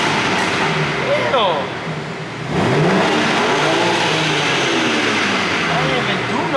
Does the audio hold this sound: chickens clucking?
no